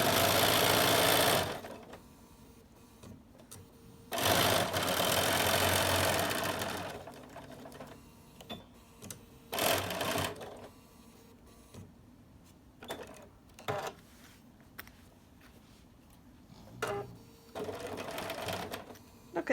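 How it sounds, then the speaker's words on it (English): A sewing machine stitches binding onto a quilt in loud, close bursts, the longest runs near the start, followed by scattered shorter stitching and handling noises. "And just finish sewing our binding on"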